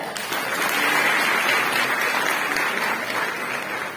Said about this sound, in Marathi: त्यावर एका जोरदार टाळ्या